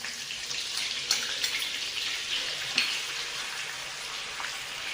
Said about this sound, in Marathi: तेल तापलेलं आहे, त्याच्यात आपण थोडंसं जिरं टाकायचं आणि ही अद्रक आणि